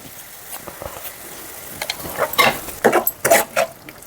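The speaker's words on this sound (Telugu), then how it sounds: "ఫ్రై అయినాక కట్ చేసిన టమాటోస్ వేయాలండి." Half a kilo of chopped tomatoes hits a hot pan for chutney, giving short bursts of sizzling and wet stirring scrapes that rise and fall over a few seconds, close up with no talking.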